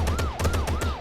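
A police car siren from the Gangstar video game wails in rising and falling sweeps, loud and steady with no talking over it.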